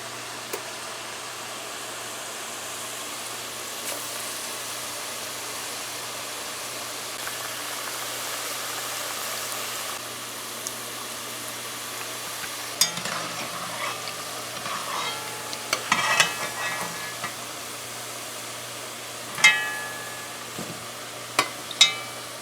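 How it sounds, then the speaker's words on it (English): Pholouri balls deep frying in hot oil give a soft, continuous sizzling hiss under a steady background hum, with a few sharper clatters and knocks of utensils toward the end. "we have fried our Pholouri here for our Karhee"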